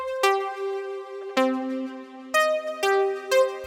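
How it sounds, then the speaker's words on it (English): Dry synth pluck preset from the Hive synthesizer played with no effects, five bright plucked notes in a short melodic phrase, each with a quick attack and short decay, heard alone. "so I'll play this without any effects for you again, it sounds like this."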